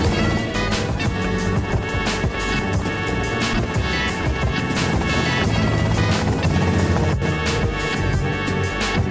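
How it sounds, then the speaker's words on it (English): Helicopter in GTA Vice City on PC, a steady loud rotor drone with whirring engine noise holding constant throughout, dense and close with no pauses. "Okay, that's them in the chopper."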